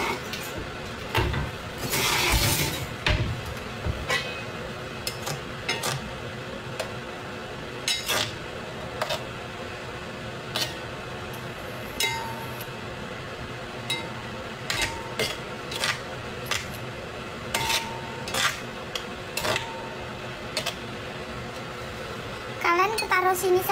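Metal pots and pans clank and clatter in scattered bursts, a loud rattle early on, then intermittent clinks with faint background voices.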